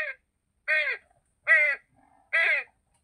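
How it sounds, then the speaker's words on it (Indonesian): A crow caws three times in a steady rhythm, each call loud, harsh and close, with brief silences between them and no other sounds. "Aku Gagak."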